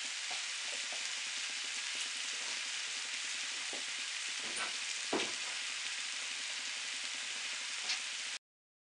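Tomato fries with bacon in a pot, a steady, even hiss that goes on without a break, with a few faint stirring knocks, fairly quiet and close, ending abruptly.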